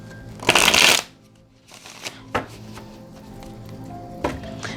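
A deck of tarot cards shuffled close by, opening with a loud riffling burst, followed by softer taps and card slides and a final quick riffle.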